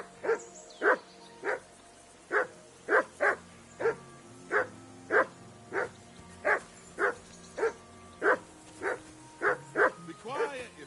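A hound in the medieval game Kingdom Come: Deliverance II barks repeatedly in a steady rhythm, about fifteen loud, close yaps, ending with a brief whimpering whine.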